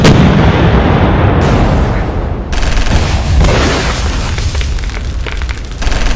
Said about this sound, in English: hurling high explosive shell after shell onto the men of the 101st